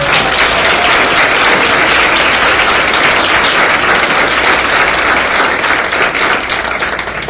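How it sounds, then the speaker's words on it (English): Sustained applause fills a room at a county youth awards dinner, a dense steady wash of many hands clapping, loud and continuous with no talk over it. "Let's give her another round of applause."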